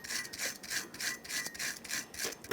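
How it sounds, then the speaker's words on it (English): A wire brush scrubs the caliper bracket mounting surfaces on a 2010-2013 Kia Forte Koup 2.4L during a front brake job, steady rhythmic back-and-forth scraping strokes, close and clear with no talk. "We want to make sure we use a wire brush or some sandpaper in here"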